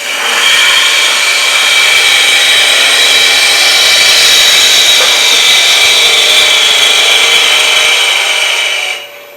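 Bowl gouge cutting wood on a lathe, a loud steady hiss and rushing scrape held evenly for about nine seconds before cutting off abruptly.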